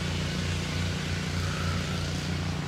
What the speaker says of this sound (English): they're mowing the golf course,